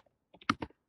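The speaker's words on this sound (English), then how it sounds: "I'll type this in there." A computer keyboard clicks through a few quick, soft keystrokes, close but faint against silence, with no one speaking.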